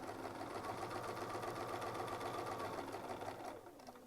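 A sewing machine doing free-motion quilting runs in a steady, fast, rhythmic whir at close range, stopping near the end, with no talking over it.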